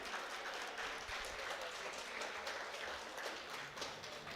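Crowd at the 2025 European Equipped Powerlifting Championships applauding a 415 kg opener in the men's 120 kg class, a soft, even wash of clapping heard at a distance, with faint voices underneath.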